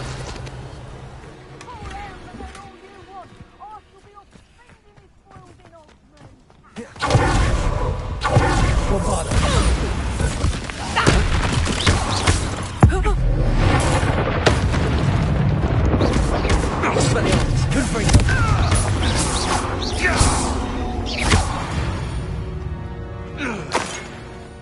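Spell blasts and explosions from Hogwarts Legacy erupt in a dense, loud barrage of booms, whooshes and crashes after a quieter opening, with a voice shouting incantations over the combat.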